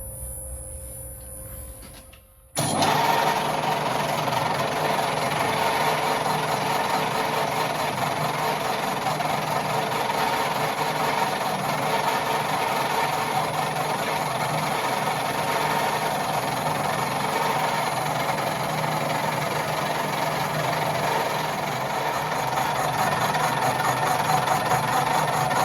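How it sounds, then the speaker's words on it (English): A lathe faces the side of a motorcycle front wheel on a Motostandard 1010, removing the lip left by the old tube; a steady, loud machining drone with a constant high whine runs throughout after a brief quiet start. "We now have the wheel turned around, and we're going to just face this side so that we don't have that lip from the old tube."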